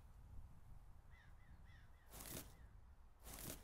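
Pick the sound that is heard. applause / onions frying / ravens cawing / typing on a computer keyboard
ravens cawing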